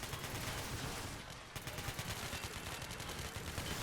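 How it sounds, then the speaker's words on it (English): Dense rapid gunfire rattles continuously in a video game street-defense firefight involving elite GIGN police operators, loud bursts overlapping with a brief lull midway, no voices. "We're taking fire."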